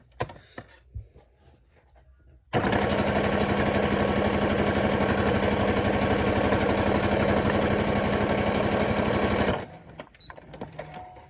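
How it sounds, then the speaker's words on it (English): A sewing machine runs a straight stitch along the folded bottom edge of a pleated cloth face mask, a close, steady, fast whirring hum for about seven seconds between quieter handling noises. "I'm gonna do another straight stitch on the folded edge down at the bottom real quick"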